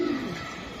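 A grizzle racer pigeon gives one short, low coo close by, alone and clear.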